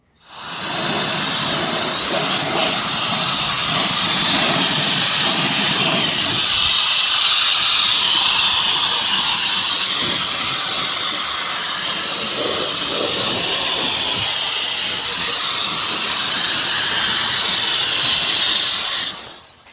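A loud, steady rush of blowing air from an electric air duster clearing leaves from a car engine bay runs almost continuously for about twenty seconds, with a whiny motor hiss and slight fluctuations.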